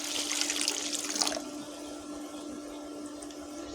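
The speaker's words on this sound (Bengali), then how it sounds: "এখন আমি অল্প জল দিয়ে দেবো পরিমাণ মতো" Water is poured into a mustard paste for shorshe ilish, a close, steady splashing rush for about a second and a half that then stops, leaving a quiet kitchen hum with no speech.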